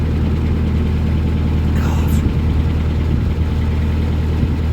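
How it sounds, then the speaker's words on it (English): A narrowboat engine drones loudly and steadily at high revs, a low continuous rumble with a constant vibrating tone throughout. "I'm not going to take it easy on the revs."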